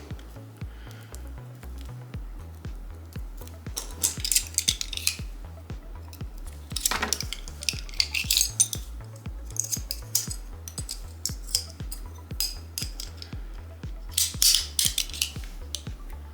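Scissors and a work knife cut through cards for the Mage Knight board game, making repeated crisp snips and small clicks in uneven bursts over a low, rhythmic background hum, with no talking.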